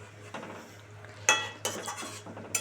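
Rui fish curry gets stirred in a pan, several clinking metal strokes of a spoon against the pan over a soft low bubbling, close by, with one bright ring and no voices.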